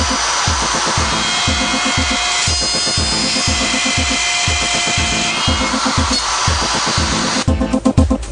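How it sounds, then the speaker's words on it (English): Router fitted with a bearing-guided dovetail bit cutting a dovetail socket in wood, following a dovetail guide; a steady loud motor whine with rhythmic cutting pulses throughout, ending in sharper rattling bursts. "Cut a dovetail socket by simply allowing the bearing on the router bit to follow the dovetail guide socket."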